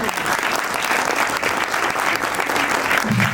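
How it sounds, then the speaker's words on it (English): Steady, dense audience applause at the inauguration of a literature festival, a full room clapping continuously and loudly for a performing foundation team, with faint voices mixed into the crowd noise. "Mr. Avirup Sengupta and his team of Prayas Foundation deserve a big round of applause"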